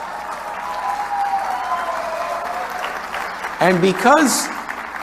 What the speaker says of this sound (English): You can clap now if you want.